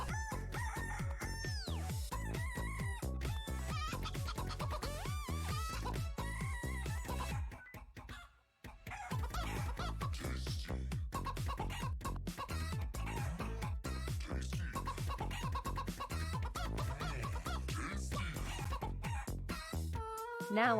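A voice imitating a chicken by saying "book" over and over in clucking bursts, with rooster-like squawks mixed in, brief pause near the middle, fast steady rhythm throughout and loud in the foreground.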